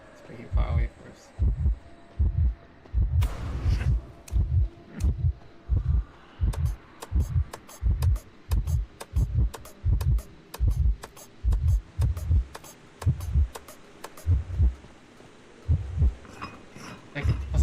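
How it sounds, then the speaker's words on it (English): Loud, steady heartbeat from the Identity V video game, a deep double-thump pulse repeating evenly and close throughout, with faint hum behind it. "Like for some reason it's so loud, the heartbeat."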